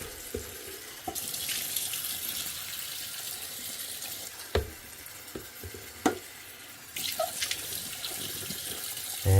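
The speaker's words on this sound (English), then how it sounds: "you're pouring the water in there, and you can see kind of how like gray and dirty that water got. And then just give it a quick rinse" Water is poured out of the tank of a VEVOR 22oz ultrasonic jewelry and eyeglass cleaner, then the tank is rinsed: a close faucet-like splash and trickle with a few sharp knocks and clanks.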